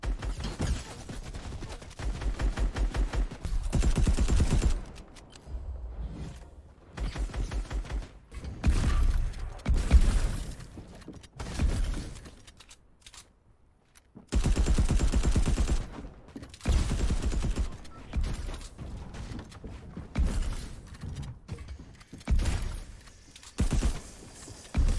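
A shotgun fires in Fortnite in loud, repeated bursts separated by short gaps of near silence, with game clatter between the blasts.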